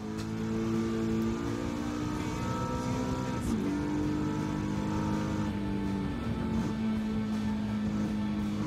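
A steady car engine hums continuously with small pitch shifts in Gran Turismo 7 on PlayStation 5, a game motor drone at even loudness with no talking.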